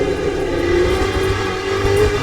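A steady pneumatic whine from the air pump of an LMP2 race car in a racing video game, a sustained tonal hum layered over the low engine drone, continuous and fairly loud.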